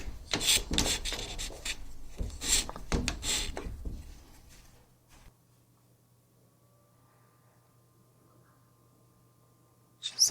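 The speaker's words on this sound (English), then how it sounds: "So this is called, it's a card scraper again. Just taking up some of that lacquer or varnish." A card scraper rasps across lacquered wood in a kitchen renovation with a run of quick, close strokes, then falls quiet, leaving a low hum and a brief scrape at the end.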